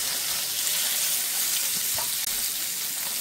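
Italian meatballs browning in a frying pan, a steady loud sizzle that runs without a break and carries a few faint clinks and stirring touches.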